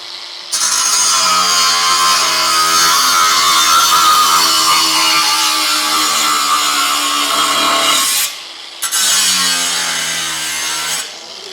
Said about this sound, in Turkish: Bu sprelimin 4 kademe devir ayarlı olduğunu belirtmek istiyorum.